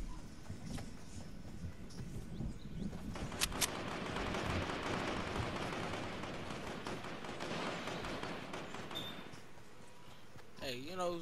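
Gunfire in the Fortnite video game, bursts of shots popping over a busy mix of game sounds, with players talking throughout.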